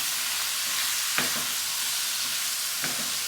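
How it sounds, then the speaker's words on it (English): All-purpose flour cooks in a pan over medium-low heat with a loud constant sizzle, and a spoon scrapes through it now and then, without any speech. "So once the flour goes in, I just like to cook it out a little bit."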